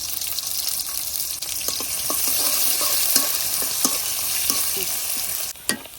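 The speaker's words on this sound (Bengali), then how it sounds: "পেঁয়াজ আর রসুনটা ভাজা নিচ্ছি।" Onion and garlic sizzle in a pan while a utensil stirs them in several scraping strokes, the frying hiss close and steady with no voices over it.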